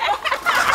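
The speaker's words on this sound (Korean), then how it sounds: "귀한 손님에게 대접할 닭을 잡으러 온 것인데요" A chicken being chased on a rural Korean farm clucks and squawks loudly and close, in quick, agitated bursts.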